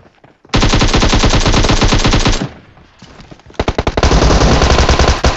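Sustained automatic gunfire from a Thompson and an AKM-style rifle in PUBG Mobile, loud and close, with long rapid bursts, a short pause, then more dense firing.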